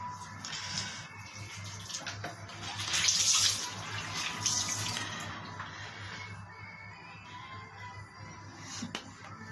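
Water runs from a tap during a face wash, a soft continuous stream with splashing that swells briefly in the middle, fairly quiet and steady with no talk.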